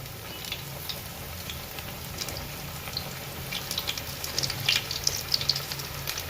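Steady oil sizzle from a batch of lilva bean tikadi bhajiya fritters, with crackling bursts that grow busier toward the end, a close, continuous frying hiss with no talking.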